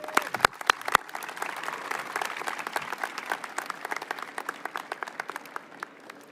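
An audience applauds in welcome for a woman taking the stage at an MLB announcement at Wrigley Field, a dense sustained patter of many hands clapping at moderate distance, with a few sharper claps standing out at the start.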